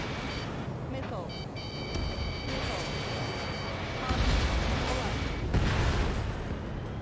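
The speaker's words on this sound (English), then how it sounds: "Damn, they're firing surface-to-air missiles at me." Surface-to-air missiles firing at a fighter jet in Ace Combat 7, a series of launch bursts and booming blasts over steady jet roar, layered with radio chatter and warning tones.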